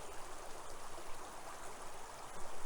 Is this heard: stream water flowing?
yes